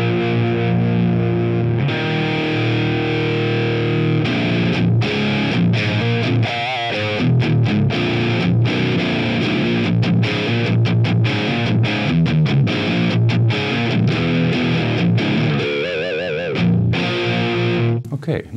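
Electric guitar played through a Marshall JMP 2203 amplifier, overdriven, in a comparison between the real amp and a Softube plugin: loud, sustained distorted chords and riffs ringing continuously for the whole passage, with no talking.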